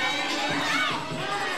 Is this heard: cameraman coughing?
no